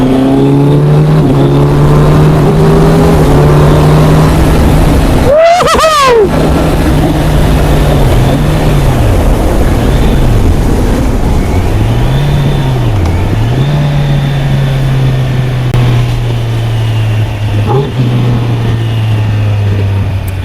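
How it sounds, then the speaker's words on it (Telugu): A 2025 Kawasaki Z900 motorcycle ridden on the road, its engine holding a loud steady note, with a sharp rev burst and several quick, seamless quickshifter gear changes dipping and recovering the pitch, no talk. "నేను అనుకున్న క్విక్ షిఫ్టర్ అంత బాగుంటుందా, అంత స్మూత్ ఉంటుందా"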